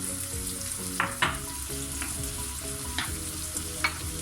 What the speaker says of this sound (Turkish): Evet şu an domateslerimi koyuyorum.